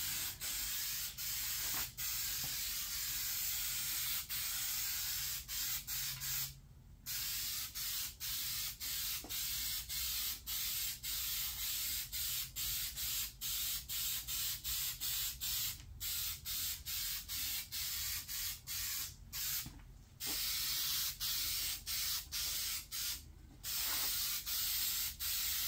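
Aerosol can spraying onto a cheap, rough Honda EU3000is generator that won't start, a long run of close hissing bursts broken by many short pauses and brief gaps, steady and fairly quiet, with no talking.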